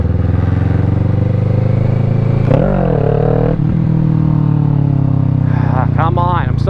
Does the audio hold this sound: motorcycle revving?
yes